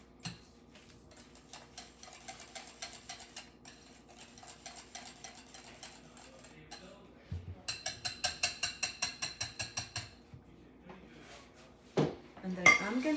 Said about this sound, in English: I'm gonna whisk this cream just to soft it